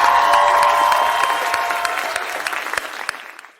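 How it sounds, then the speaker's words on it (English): Crowd applause after a small-town mayor's New Year's speech, loud and dense at first with clear individual claps, then slowly thinning and fading over a few seconds before cutting off. "The crowd erupted in applause."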